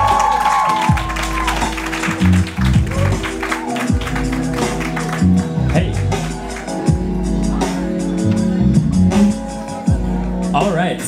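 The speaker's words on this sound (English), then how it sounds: "So a big round of applause for my friend," Crowd clapping and cheering at an evening speaking event, a dense continuous applause mixed with voices and a loud, near voice speaking over it.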